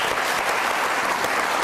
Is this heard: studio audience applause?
yes